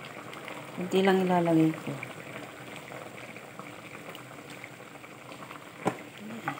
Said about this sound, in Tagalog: Ayan guys, kumukulo na